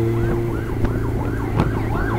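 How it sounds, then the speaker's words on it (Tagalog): An ambulance siren wails in rising and falling sweeps, loud and near, over a steady road rumble as it meets riders approaching the finish of the Ronda Pilipinas 2020 cycling race. "Sumalubong ko kami ng ambulansya."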